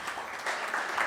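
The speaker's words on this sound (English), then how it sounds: "A big round of applause for" Audience applause at a conference session on cyber defense talent in India, a continuous, moderately loud crackle of many hands clapping with no voices over it.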